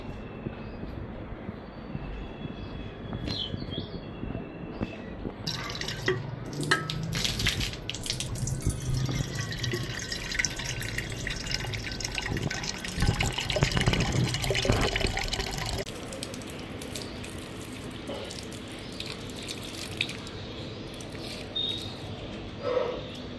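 Water runs and splashes into a container at home, a fluctuating pour in the middle of the clip with clattering handling sounds and a thin high whine, quieter stretches before and after.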